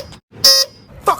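A small car's horn gives one short, bright honk amid brief, scattered background noises.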